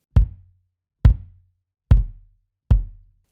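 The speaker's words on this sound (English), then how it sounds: "This is when you tune the kick drum just a little bit too high." A kick drum tuned slightly too high, struck four times at an even, unhurried pace, each close, loud hit leaving a short ringing tonal tail before silence.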